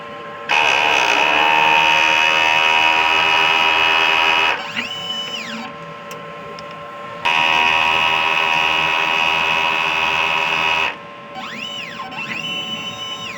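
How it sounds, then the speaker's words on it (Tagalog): Printer running a print head cleaning cycle, loud sustained mechanical buzzing in two long bursts separated by quieter whirring and sweeping motor tones, close by. "Head clean."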